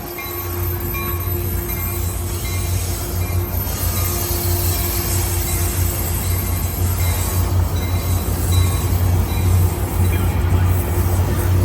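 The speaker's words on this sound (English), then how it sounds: "that train is going to Stockton, California." An ACE (Altamont Corridor Express) commuter train bound for Stockton departs San Jose Diridon station with a loud, steady rolling rumble and thin, sustained wheel squeal running the whole time, without voices.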